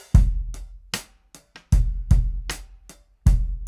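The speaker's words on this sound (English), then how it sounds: "This is with none of our processing on the drums right now." A drum kit in a small room plays a simple beat, unprocessed, recorded with kick, overhead and room mics, kick thumps and snare cracks alternating with lighter hits, dry and close with nothing else around.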